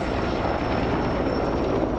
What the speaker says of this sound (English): Helicopters are being used to douse the fires.